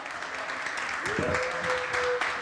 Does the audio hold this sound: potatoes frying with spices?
no